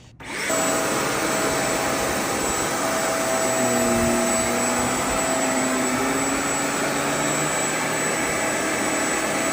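A Shark CarpetXpert HairPro carpet shampooer switches on over old, pet-stained carpet and runs with a loud, steady motor whine and rushing suction that holds unchanged for about nine seconds. No one speaks.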